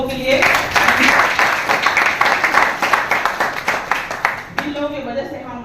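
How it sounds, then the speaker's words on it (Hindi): An audience clapping loudly for guests at a Modicare success-story event, a dense burst of applause lasting several seconds under a voice before it cuts off. "जोरदार ताली उन लोगों के लिए।"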